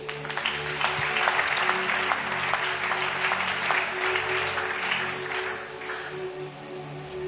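A church congregation breaks into sustained, dense applause at a prophetic service, the clapping loud and continuous for several seconds before thinning slightly toward the end, with a faint steady hum underneath.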